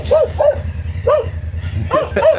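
A dog barks close and loud in repeated short, yelping bursts, clustered in pairs with brief pauses between them.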